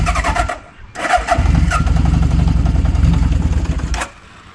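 A Honda CB750 motorcycle engine cranks with a short stutter, then catches and settles into a loud, close, chugging idle that runs steadily before cutting off near the end.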